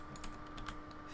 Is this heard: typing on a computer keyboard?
yes